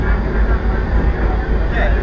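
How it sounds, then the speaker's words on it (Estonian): Steady low rumble and broad rolling noise of a moving train carriage heard from inside, continuous and fairly loud throughout. "Nüüd me oleme rongis ja sõidame Peetsi."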